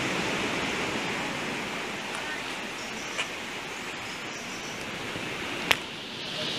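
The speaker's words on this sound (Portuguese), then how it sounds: "como eu amo esse barulho de mar, me traz uma paz tão grande" Sea waves washing onto a beach make a steady, loud, broadband surf roar that stays constant throughout, with a couple of brief faint clicks near the end.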